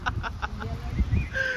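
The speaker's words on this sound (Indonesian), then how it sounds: "Itu bebek lihat nggak?" Wild ducks by the water in Germany give a short run of quick, nasal calls, near and moderately loud, followed by a few higher whistling notes over outdoor background noise.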